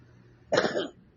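A single short, sharp cough, close and loud, rising out of a quiet background.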